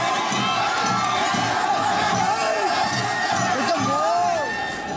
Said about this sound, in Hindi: यहाँ की भीड़ और ये कतार उन लोगों की है जो संक्रमण से बचने के लिए अपने गांव लौट रहे हैं।